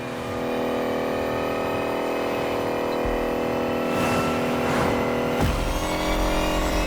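An electric Lotus race car in The Crew Motorsport accelerates from the start with a steady high electric whine, joined by rushing wind and passing whooshes, holding loud throughout.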